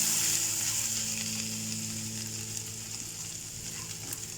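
Cumin seeds frying in a pan for jeera aloo, a steady bright crackling sizzle close by that fades slowly over several seconds, with no voices.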